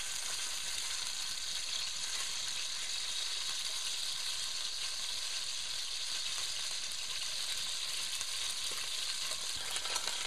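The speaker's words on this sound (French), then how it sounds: "Griller mon deuxième magret." Duck breast (magret) grilling in a hot pan, a continuous bright, even sizzle and crackle holding steady throughout at moderate level with no one speaking.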